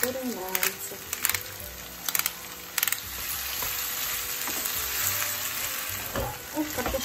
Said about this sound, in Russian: И обжариваем.